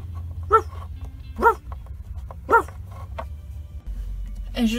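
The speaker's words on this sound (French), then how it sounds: "c'est pour ça qu'il aboie comme ça" A dog barks three times at a steady pace, fairly close and loud, over a low background hum, then gives a short whining yip at the end.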